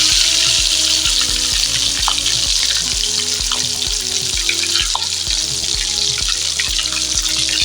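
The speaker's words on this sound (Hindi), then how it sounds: "देखें दोस्तों आलू वाली टिक्की क्या ज़बरदस्त फ्राई हो रही है" Potato tikkis frying in hot oil in a pan, a steady crackling sizzle with bursts of popping and light clinks, close and loud throughout with no talking.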